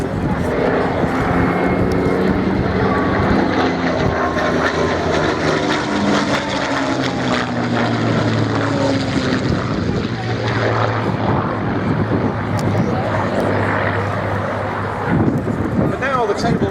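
Spitfire and Buchon fighters at the Biggin Hill Festival of Flight 2019 air display fill the air with a loud, continuous propeller-engine roar that holds steady for the whole stretch, with a voice apparently speaking over it.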